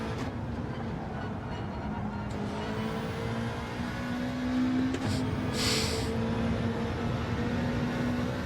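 Racing car in the video game Gran Turismo 7, accelerating out of a corner in fourth gear on the Tokyo Central counter-clockwise circuit: a steady engine drone with rising pitch and a brief tonal whine midway, heard alone without voices.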